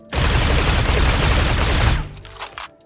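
Continuous automatic gunfire in the mobile shooter Critical Ops, a dense loud burst lasting about two seconds before cutting off into a brief quieter tail, with no talking.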